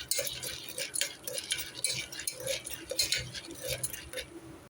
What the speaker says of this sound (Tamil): எல்லாம் மிக்ஸ் பண்ணி விட்டுடலாம்.